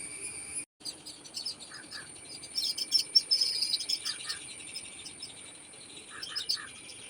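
Crickets chirp in a faint, continuous high trill, with brief bird chirps breaking in now and then outdoors; no one speaks.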